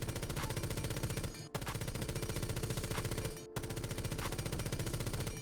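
Rapid automatic gunfire from Ash's rifle in the Rainbow Six Siege shooting range at 20 meters, fired in three long sustained bursts separated by brief pauses, steady and fairly faint with no talking.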